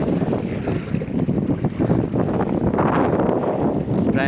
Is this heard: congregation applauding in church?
no